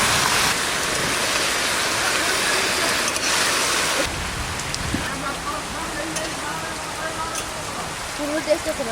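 Heavy rain falls steadily outdoors, a dense hiss throughout that eases slightly partway through, with a few faint knocks near the end.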